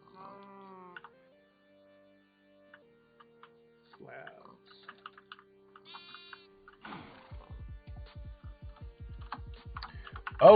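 Sheep bleating in the Minecraft SkyFactory 4 video game, a wavering game-animal call near the start, followed by assorted game effects and a fast run of rhythmic clicking taps.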